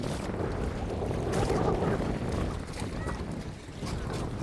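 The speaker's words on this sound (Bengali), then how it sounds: "পানির শব্দটা নিরিবিলি।" Gentle water lapping against a boat on a lake during a picnic outing, a soft, continuous wash mixed with wind buffeting the microphone, faint and with no clear talk.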